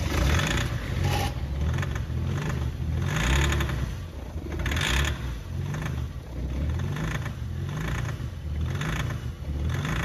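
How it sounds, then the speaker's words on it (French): A BMW M57 diesel engine running outside its E34 car, a steady close mechanical idle with a rhythmic low throb and faint ticking, rising briefly in a couple of light revs. "Les mecs ont démarré le moteur devant moi, ce que je vais vous montrer dans quelques secondes"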